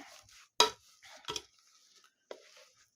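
A hand masher pushes through boiled potatoes mixed with baking soda in a pot, giving a few sharp, close thuds and clinks separated by quieter soft squelching, with no talking.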